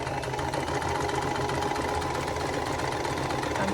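Sewing machine stitching a seam through a vintage-style quilt block, a steady mechanical whirring and rapid needle rhythm running continuously at close range with no talking.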